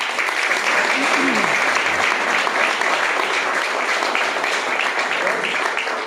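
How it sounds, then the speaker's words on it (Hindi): Audience at a Modicare network-marketing meeting in Hisar applauding a speaker named Gaurav, a continuous loud round of many hands clapping with some voices underneath, tapering at the close. "गौरव जी के लिए एक बार तालियां"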